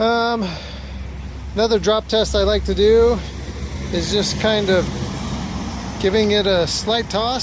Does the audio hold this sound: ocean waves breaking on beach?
no